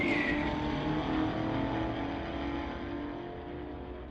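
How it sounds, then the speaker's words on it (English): A drag race between a Mustang and a 2019 Camaro at a street-legal event, heard as a loud engine roar that slowly fades and lowers in pitch as the cars pull away, with no talk. "We've got Russell Alley here in the Mustang TCS side going against Sean Mercer in the 19 Camaro."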